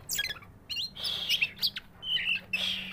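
An oriental magpie-robin (kacer) calling close by, bright chirps and whistled phrases in quick bursts over a low steady hum.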